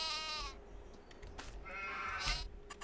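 Sheep bleat in a Farming Simulator 22 pasture, two drawn-out wavering calls over a steady ambient hum, moderately close with no talking.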